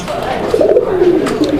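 A pair of pigeons cooing up close, one low rolling coo that rises and falls over about a second, with a person talking in the background.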